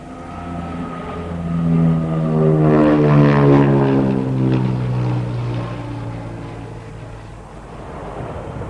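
A G.222 twin-turboprop military transport aircraft at the Royal International Air Tattoo roars past on a brisk light-weight takeoff, loud propeller drone swelling and sliding down in pitch as it passes and fades.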